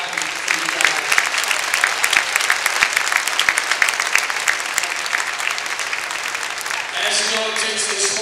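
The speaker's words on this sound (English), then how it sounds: "giving a big round of applause for all of our workers and volunteers this weekend" Audience applause for the workers and volunteers at a Badger Challenge marching band event, dense steady clapping from a large crowd that holds loud through most of the stretch before tapering, with a voice starting to speak near the end.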